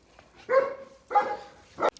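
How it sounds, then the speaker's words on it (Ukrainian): Neighbours' dogs bark three times, the barks short and moderately loud with quiet gaps between them and no talking. "Там з'явилася собака, і тільки що вони почали гавкати"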